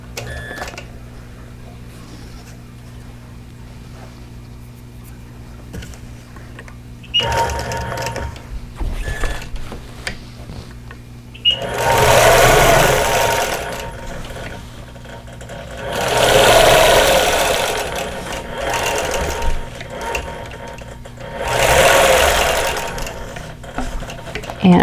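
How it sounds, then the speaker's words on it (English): Sewing machine stitching outline quilting on a vintage-pattern quilt block, running in three loud sustained bursts with quieter gaps and lighter mechanical handling noise between them. "I'm going to just do some more outline quilting here."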